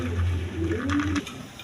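Pigeons in a collection of fancy breeds, including red Indian Bombay pigeons, coo in low repeated rolling calls close by for over a second, then fade over a faint background hiss.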